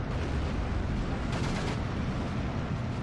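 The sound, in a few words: artillery shots landing in the video game Steel Division 2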